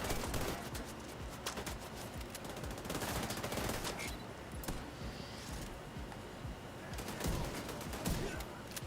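Turrets fire in the video game The Division 2, a steady stream of rapid automatic shots mixed with wider gunfire in a dense, continuous battle.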